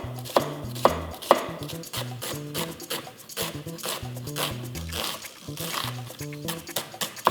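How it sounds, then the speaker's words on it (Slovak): A knife chops onion and garlic on a cutting board in brisk, uneven bursts of sharp taps, close and clear, with a little background music underneath. "Takisto si ošúpeme a nakrájame cibulu a cesnak."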